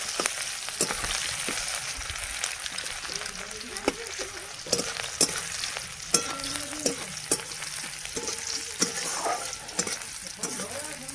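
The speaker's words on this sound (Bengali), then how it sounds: "আমি দেখো পেঁয়াজ লাল লাল করে ভেজে নিয়েছি" Onions sizzle in a pan as a steady, moderate frying hiss, with repeated scrapes and knocks of a stirring spoon throughout and no voices.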